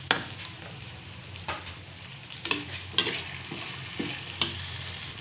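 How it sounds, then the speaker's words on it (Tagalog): Ginger and pork sautéing in a pan for binagoongan with vegetables, a continuous moderate sizzle punctuated by several sharp scraping stirs, no voices. "Gisa-gisa muna natin. Ayan, lagay din natin yung luya natin."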